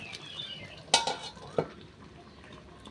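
A lid is set down over a pot of mango chutney cooking on the stove, giving a sharp metallic clink followed by a second lighter clatter, close and fairly loud.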